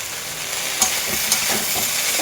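Catfish frying in a pan for a thin curry gives a steady broadband sizzle with faint stirring clicks and a couple of brief louder pops, continuous and close.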